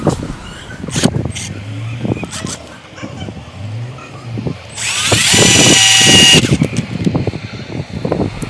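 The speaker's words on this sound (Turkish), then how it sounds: "Şimdi matkapla cebelleşiyorum orada yaklaşık bir, bir dakika kadar. Çünkü gücü yetmiyor. MDF'yi delemiyor." A handheld electric drill strains against MDF, whining in uneven bursts with a sustained heavier run in the middle, amid knocks and handling clatter of a junk-built desk project.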